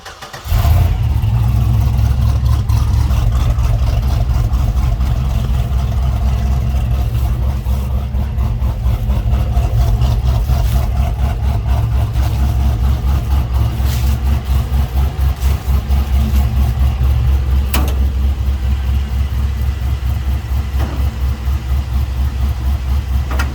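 The 6-liter LS V8 in an all-wheel-drive Dodge Raider with a six-speed manual rumbles steadily with deep, loud, close engine drone, idling throughout with slight variations and no talk.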